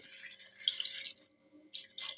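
Water runs and splashes briefly, then stops, then a short burst of pouring resumes near the end; quiet and close.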